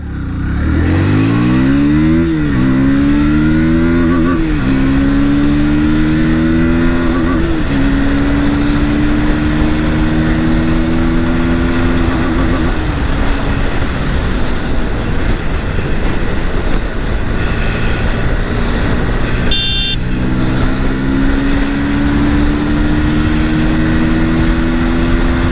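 A KTM Duke 160 motorcycle accelerating hard through the gears for a top speed run, loud steady engine drone rising in pitch with several shifts, heavy wind rush throughout.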